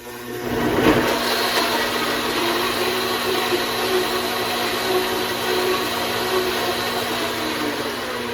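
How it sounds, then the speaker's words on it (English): A blender whirs up and runs steadily, a constant loud mechanical whine churning without pause for several seconds, blending salsa. "I'm just going to turn this up till it blends"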